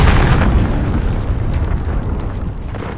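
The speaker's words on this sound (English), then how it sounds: "Allied cruise missile away." Cruise missile explosion in a military shooter video game, a loud, dense rumbling blast that fills the whole stretch and slowly tapers off, with no talking.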